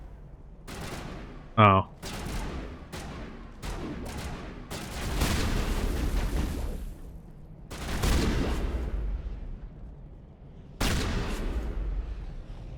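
Gunfire from the video game Mass Effect, a few sharp bursts spread across the clip amid busy game sound, with a player talking briefly over it.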